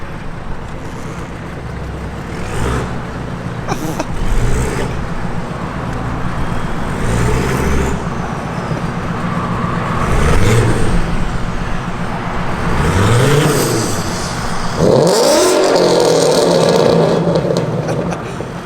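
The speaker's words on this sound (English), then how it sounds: "go race the Mustang" A Ford Mustang being raced, its engine revving and accelerating amid steady road and traffic noise, with a couple of rising engine surges late on and no voices.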